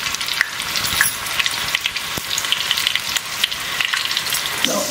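Sweet corn pakoda batter deep fries in hot oil with a close, busy crackle and bubbling, broken by frequent sharp pops and light stirring clatter, with no voices.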